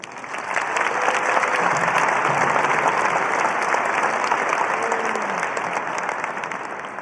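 Broad sustained applause from a large audience at a Rio Rancho high school graduation ceremony, a dense wash of clapping swelling in and holding steady, with faint voices faintly under it.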